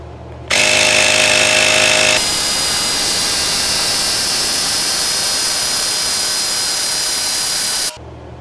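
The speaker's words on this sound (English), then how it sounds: "now we're going to start it and let it pump up." VEEAPE electric tire pump inflating a mini bike tire, a loud close mechanical whine starting with a higher-pitched burst, then a steady buzzing drone for several seconds before stopping abruptly.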